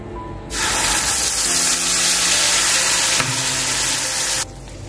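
Ground masala paste hits hot oil in a pan for a restaurant-style masala paneer, bursting into a loud, steady sizzle that holds for about four seconds before cutting off abruptly.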